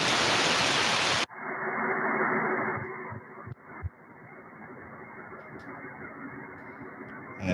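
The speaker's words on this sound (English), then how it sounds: "these little tones that you hear in the back are kind of they're these kind of instruments" A shortwave receiver tuned to 13.560 picks up tones from scientific equipment: after a loud burst of static cuts out, a softer steady hiss carries faint continuous tones underneath, with a couple of brief clicks.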